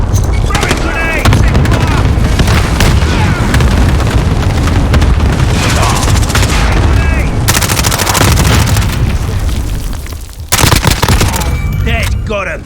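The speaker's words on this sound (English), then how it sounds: "Throwing grenade!" Grenade blast and sustained gunfire from a Call of Duty Modern Warfare team deathmatch in Hardhat, loud and dense with rapid bursts and booms throughout, a brief lull near the end before shooting resumes, with voices calling out over the action.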